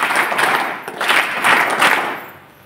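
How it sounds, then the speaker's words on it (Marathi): An audience at a village women's loan fair held with an SBI manager claps together in a welcome, a dense wash of hand claps swelling in waves for a couple of seconds before tapering off. "सरांचं देखील आपण 3 टाळ्या वाजवून स्वागत करावं"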